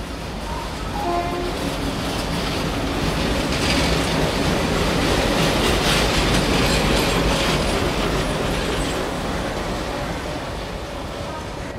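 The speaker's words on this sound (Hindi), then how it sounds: "ये देखिए फाइनली अपनी ट्रेन जो है वो लगाई जा रही है।" A passenger train for the Mangala Lakshadweep Express pulls into a railway platform, with a continuous loud rumble and clatter of wheels and a sustained tone like a horn, over busy station noise and nearby talk.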